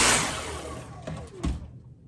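A Dyson V8 Origin cordless vacuum cleaner whirs loudly and alone, then its motor note shifts and fades out within about two seconds.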